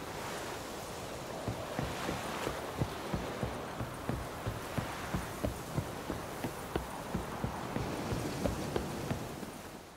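Horse hooves clip-clop steadily in The Witcher 3 video game, a quiet regular walking rhythm of soft thuds over a faint windy ambient wash, with no talking.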